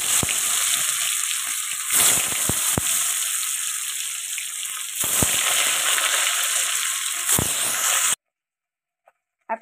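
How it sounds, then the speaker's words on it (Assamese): Boiled potatoes frying in oil left over from frying eggs, a loud continuous sizzle with sharp crackles and pops scattered through it, ending abruptly into near silence. "সেইখিনি তেলতে বইল কৰা আলুখিনি অলপমান আপোনালোকে ফ্ৰাই কৰি ল'ব"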